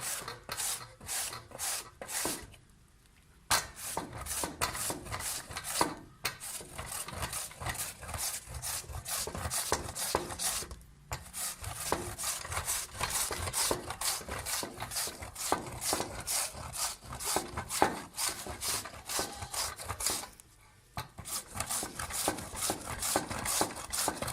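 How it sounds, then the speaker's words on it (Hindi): Thick carrots rasped against a kitchen grater in steady, rhythmic back-and-forth strokes, close and crisp, with a few brief pauses between runs and no talking. "आप इन्हें कद्दूकस करने के लिए मोटी मोटी गाजरें लें।"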